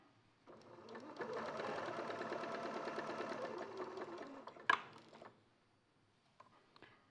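A sewing machine stitches down a fabric cuff in one steady, soft mechanical whirring run of several seconds, followed by a sharp click and a little quiet handling.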